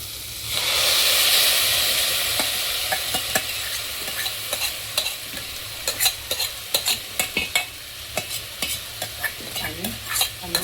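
Spices and soaked mung dal stirred in a pan for a Maharashtrian amti, a steady close sizzle and hiss with repeated sharp scraping strokes of the spoon, no talk.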